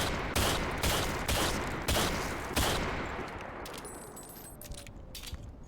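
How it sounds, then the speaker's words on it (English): A .44 Magnum handgun firing in the shooter game Call of Duty: Future Warfare, five loud, evenly spaced booming shots about half a second apart, each with a rumbling tail, then fading reverb and faint mechanical clicks. "So as the first handgun, we have the typical 44 Magnum."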